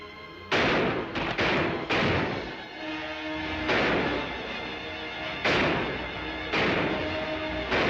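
Shootout in a Wild West movie, with loud booming gunshots fired in several bursts, each leaving a long ringing echo, the shots spaced irregularly and close.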